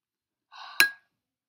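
A single sharp glass clink from the marble in a marble soda bottle as it is being opened, preceded by a brief soft rustle and then silence.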